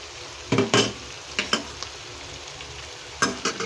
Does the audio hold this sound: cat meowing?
no